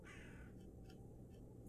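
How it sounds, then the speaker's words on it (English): A raven caws a few times at a distance in the Loretta horror adventure game, faint short calls above a steady low background hum. "Yeah, a raven."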